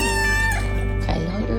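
Kittens meowing and crying in a burst of high, thin calls, close and fairly loud over a steady background hum.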